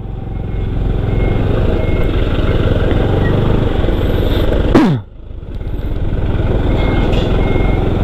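A vehicle drives past on a busy street in Canggu, Bali. A steady engine drone builds to a sharp close pass near the middle, then drops away and the traffic noise returns.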